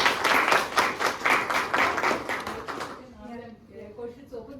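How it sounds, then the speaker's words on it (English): An audience at a technical presentation on AI and machine learning for safety applications claps loudly and evenly for about three seconds, then the applause dies away into near quiet. "So again, applaud to them."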